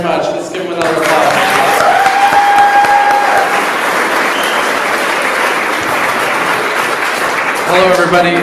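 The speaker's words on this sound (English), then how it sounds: "Let's give them another applause." Loud sustained applause from a brunch audience fills the room for several seconds, with a voice speaking briefly at the start and again as the clapping fades at the end.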